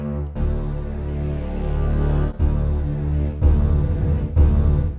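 A stacked synthesizer fat bass preset from 8Dio Hybrid Tools plays as loud, thick sustained notes. The notes change at a few sharp cuts, and the later ones sound grittier and more distorted, with no voice.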